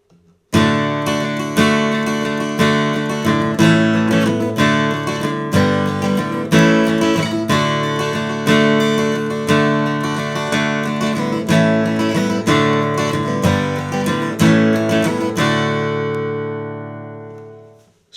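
Guitar strumming the verse chords of a song, bright and close with steady rhythmic strokes for about fifteen seconds, ending on a final chord left to ring out, no voices.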